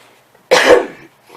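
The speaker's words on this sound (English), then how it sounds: "A dry cough coming up." A single loud, close dry cough, one short harsh burst with nothing else around it.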